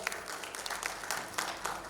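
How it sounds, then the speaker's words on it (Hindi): Applause from the audience for a guest at the grand finale of a music event, a steady patter of many hands clapping at a moderate distance. "उनके लिए भी एक बार जोरदार तालियां।"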